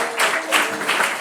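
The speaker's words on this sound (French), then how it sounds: "donc on les applaudit, nos amis de Les Gazelles" Brief applause for the team Les Gazelles at a provincial quiz competition, a few bright pulses of clapping rising and falling in quick succession, fairly close and short.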